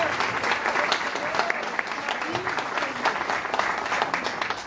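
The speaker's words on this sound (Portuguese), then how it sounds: "Vamos aplaudir ao Senhor." An audience at a religious talk breaks into sustained applause, a steady dense wash of clapping from many hands that carries on evenly throughout.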